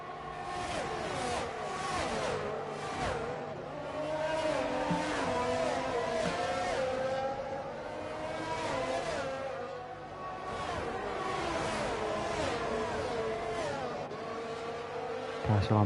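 Race car engines in a racing video game on a Canada circuit, several cars whining and shifting pitch together in a steady, dense roar that rises and falls as they jostle for position.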